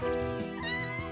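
A cat meows in the video game Astra Hunter Zosma, one loud, close, drawn-out meow with a rising, wavering pitch that fills the short clip without any talking.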